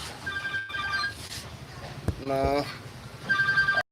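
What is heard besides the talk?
telephone ringing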